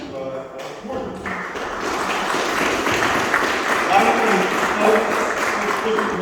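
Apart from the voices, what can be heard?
audience applause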